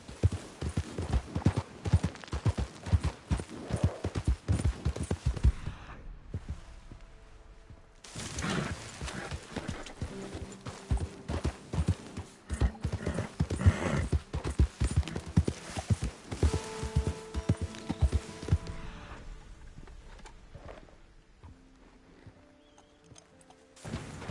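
Horse hooves in a PS4 video game, a steady rhythmic clip-clop of galloping that runs loud and close, briefly fades, returns, and eases off near the end, with an occasional snort and no talking.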